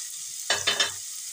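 Potatoes are tipped into onions frying in oil for a samosa filling and stirred, making three quick close scraping bursts over a faint sizzle.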